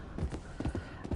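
A horse in Red Dead Redemption 2 moves at a quick, rhythmic clip-clop of hooves. The hoofbeats are brief and fairly quiet.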